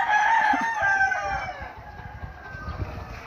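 A rooster crows loudly nearby in one long call that trails off into low clucking and background noise.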